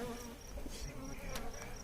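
Honey bees buzz faintly and continuously around an opened hive during an inspection, a soft layered hum with individual bees droning close by now and then.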